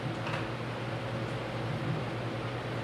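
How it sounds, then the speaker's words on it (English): A boiler heater's air-blowing fan runs steadily through the whole stretch, a constant low hum with a broad airy hiss above it at an even level, somewhere in a workshop where epoxy is being flood-poured. "running in the background sounds like a fan"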